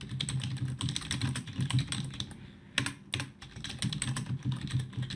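Rapid clattering keystrokes on a computer keyboard while code is typed, close and continuous with short pauses between bursts.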